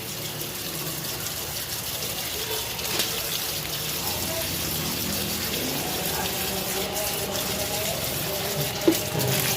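Water poured onto the soil of a potted Aglaonema houseplant, making a steady, soft trickle and splash that continues evenly throughout, with no voices.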